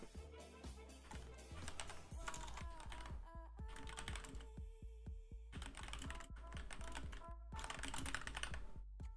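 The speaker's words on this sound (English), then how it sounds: "I am going to be typing into the chat here just to make sure that my message comes across here." Fingers type on a computer keyboard in close, rapid bursts of clacking keystrokes, with short pauses between runs and a faint background hum.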